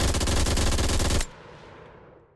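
A rapid, loud burst of automatic gunfire comes from a Vietnam-era first-person shooter video game, then cuts off and leaves a fading echoing tail.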